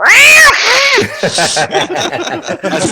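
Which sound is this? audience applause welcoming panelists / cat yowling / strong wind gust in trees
cat yowling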